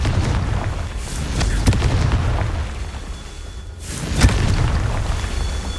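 A Confringo fire spell from Hogwarts Legacy detonates with deep rumbling booms, a rolling blast that swells, briefly drops off and then hits again with a sharper burst, loud and close with no talk.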